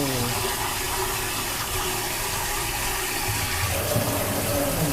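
Running water splashes steadily over pork ribs being rinsed in a sink or basin for a braised rib dish, a continuous close wash with a slight change in flow near the end.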